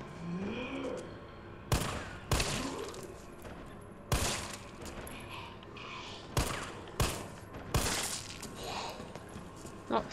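Gunfire in the video game Resident Evil 3 Remake comes as a series of sharp, loud single shots spaced irregularly over about ten seconds, with game ambience and movement sounds between them.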